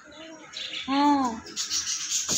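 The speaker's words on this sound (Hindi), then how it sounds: "ऑस्ट्रेलियन तोते दिखाए आपको?" Australian parrots chirp in short, bright, close-up calls that come in quick bursts, and a person briefly speaks over them.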